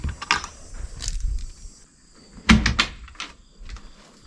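Wooden back doors of a DIY chicken coop swinging open, with a couple of soft knocks and latch clicks near the start and a sharper bang and rattle midway, close by and otherwise quiet.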